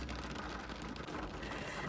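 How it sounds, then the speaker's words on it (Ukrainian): Rain patters steadily on surfaces outdoors, a dense, even wash of drops that stays constant and fairly quiet throughout, with no talking. "а у нас дощ."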